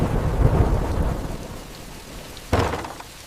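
Thunderstorm with rain as a sound effect in a story: a rolling rumble of thunder over steady rain, fading, then a sharp louder thunderclap near the end, with no voices.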